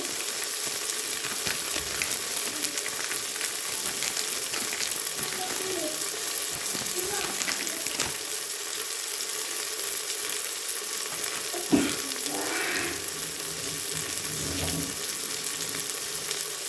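Biryani masala with ginger-garlic paste fries in a pressure cooker on low heat, a continuous close sizzle broken by occasional scraping stirs and one sharp clank.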